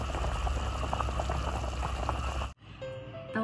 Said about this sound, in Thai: ตอนนี้เราก็ต้มไว้สักพักหนึ่งนะคะ